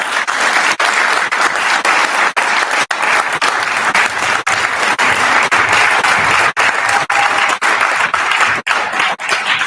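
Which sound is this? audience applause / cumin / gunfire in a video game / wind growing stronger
audience applause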